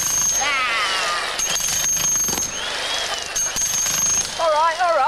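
A loud road drill hammers in a rapid, continuous rattle with brief breaks, while a voice wails and cries out over it.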